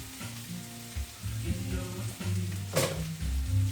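Chicken shawarma meat sizzles on a hot griddle, a soft steady crackle broken by scraping and stirring clatter from a spatula, with one sharp metallic scrape near the end.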